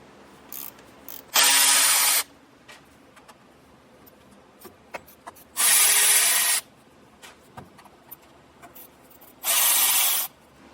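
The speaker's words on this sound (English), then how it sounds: "there's going to be 3 separate T40 Torx bit screws that are going to be in there. So we'll get all of these popped out." A power driver with a T40 Torx bit backs screws out of a plastic bracket on a 2020 GMC during air bag suspension fitting: three separate loud, even whirring bursts of about a second each, separated by quieter handling clicks and rustle.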